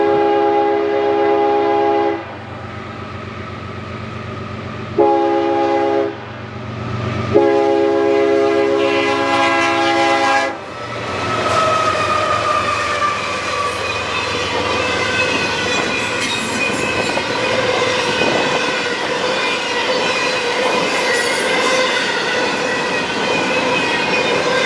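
A CSX I-017 freight train sounds a loud, sustained horn in several long blasts with brief gaps, then rumbles past close by with wheel squeal and steady rolling noise for the rest of the clip.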